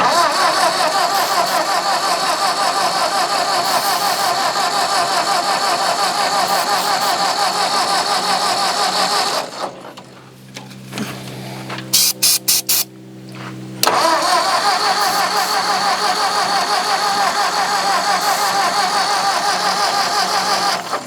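A rare Ford farm tractor engine cranks and turns over repeatedly, a loud grinding churn that stops briefly, gives a few sharp clicks, then resumes cranking.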